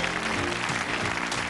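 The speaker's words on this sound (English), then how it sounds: "Let's give them a nice round of applause." A studio audience at a game show claps in a brief, steady burst of applause that holds at an even level throughout.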